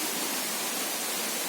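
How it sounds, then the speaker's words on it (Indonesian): Heavy water falling at the Grobogan Sewu waterfall, a waterfall roughly 10 to 20 metres high, produces a constant dense roar, steady and loud with no breaks. "Air turun dengan deras"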